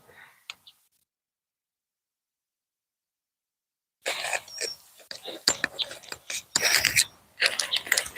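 A stiff pole saw mechanism being worked and adjusted, dry mechanical clicks and ratcheting rattles in quick irregular bursts, close up, after a quiet stretch with a few faint clicks at the start.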